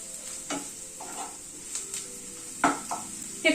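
Green chillies and onion frying in a pan, a soft steady sizzle broken by a few sharp spatula scrapes and stirring knocks against the metal, with no talking.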